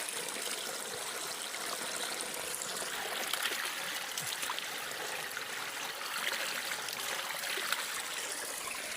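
Steady rushing of a stream, water flowing and trickling continuously at an even level, with no talking.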